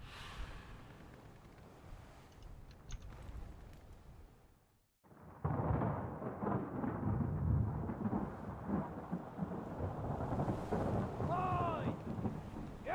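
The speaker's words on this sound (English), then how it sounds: "Storm's coming!" Heavy rain hisses steadily through a thunderstorm in the video game Return of the Obra Dinn. A brief lull gives way to a loud, rolling burst of thunder and denser downpour.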